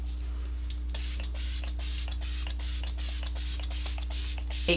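A series of short, hissing bursts from a makeup setting spray, about a dozen quick pumps in an irregular rhythm over a steady low electrical hum.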